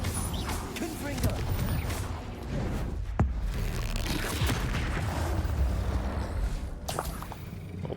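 Spell blasts from Incendio and Confringo in Hogwarts Legacy, a dense run of booming, crackling fire-and-explosion bursts with a sharp crack near the middle, layered with busy game effects and a voice talking over them.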